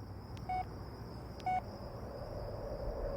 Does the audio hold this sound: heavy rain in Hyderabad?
no